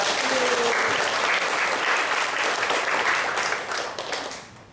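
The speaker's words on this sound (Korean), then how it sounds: "우리 박수 한번 보내줘요" A church congregation applauds during a Sunday sermon, loud sustained clapping from many people that tapers off near the end.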